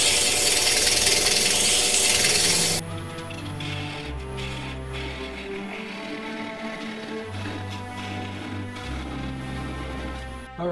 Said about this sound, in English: I'm just gonna go ahead and sand it and then I'll part it off.